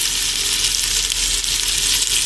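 Potato and pointed gourd curry cooks in a pan with a little water and salt, giving a steady, close bubbling sizzle throughout with no talking.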